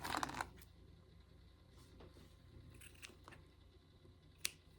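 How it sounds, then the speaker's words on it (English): Scissors trim the yarn tail of a crochet piece, giving a quick close snip at the start and another sharp snip near the end, both faint against a quiet background. "And then I like to trim off the tail a little bit."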